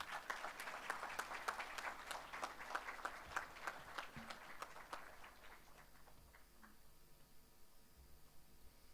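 Scattered audience applause at a digital transformation summit in Diani, quiet and somewhat distant, with crisp individual claps that grow sparser and fade out over the second half.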